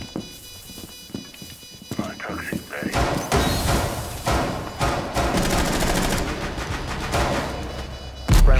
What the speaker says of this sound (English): It was a grenade.